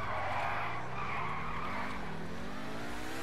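A Pegassi Torero XO sports car skids in GTA V Online, a loud sustained tire screech over engine roar that holds for about three seconds with no talking.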